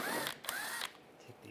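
A power tool with a 10mm socket spins briefly on screws of a 2004-2009 Toyota Prius, a short close whir rising in pitch, then a quick stop and faint handling noise.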